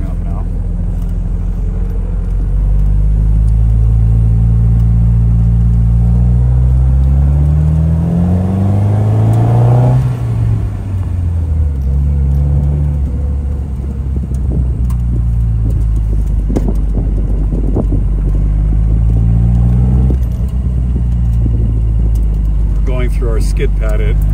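A 1956 MGA sports car's engine drones loud and close while driving, rising and falling through revs with a gear change midway and steady road rumble underneath.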